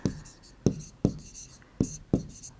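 Pen strokes write numbers for a division problem, heard as a handful of sharp separate taps and scratches in an irregular rhythm, close and fairly quiet, with no talking.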